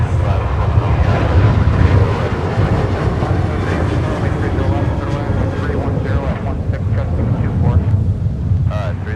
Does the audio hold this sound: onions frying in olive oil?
no